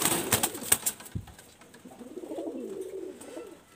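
A good-quality female pigeon coos in a low, wavering murmur that rises and fades over a couple of seconds, following a few sharp clicks and a thump.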